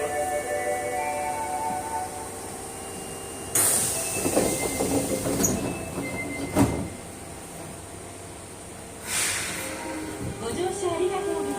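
An Osaka Metro Tanimachi Line 22 series train with GTO traction control runs through a tunnel toward Dainichi, its steady rumble and hum broken by brief wheel squeals and clunks, with onboard announcements around it.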